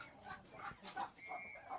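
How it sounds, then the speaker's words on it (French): Hen clucking inside a poultry laying house, a short run of soft, uneven clucks and chirps at moderate distance, with faint bird noise around and no talk. "Voilà une poule qui s'apprête déjà à pondre."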